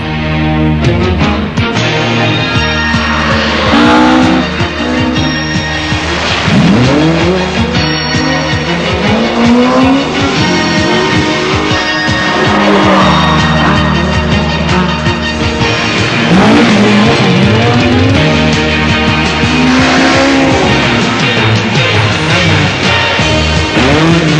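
Ford Escort Mark II rally cars at the 1978 Circuit of Ireland rally start in Belfast, engines roaring loudly and continuously with rising revs and gear changes, racing close by.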